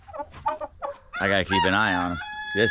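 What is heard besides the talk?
rooster crowing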